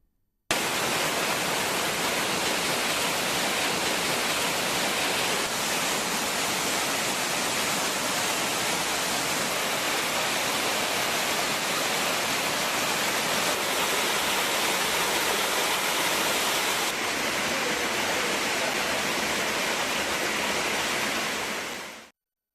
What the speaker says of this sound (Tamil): மழைநீர் ஒன்று சேர்ந்து திருப்பதி மலையிலிருந்து திருப்பதியை நோக்கி வழிந்து செல்லும் மாலடி குண்டத்தில் நீர்வீழ்ச்சியில் அருவியாக கூட்டுகிறது